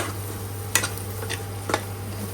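Masala spice paste cooking in a pan over a steady low hum, with a few soft scraping stirs and faint ticking clinks of the spoon.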